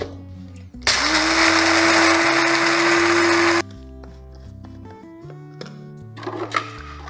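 Electric coffee grinder crushing coffee beans to a medium grind, a loud whirring roar that starts abruptly, runs about three seconds and cuts off, over quiet background music.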